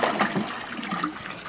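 Water pours and splashes outdoors near someone's feet, a steady rushing gush through the whole stretch, fairly close and moderately loud.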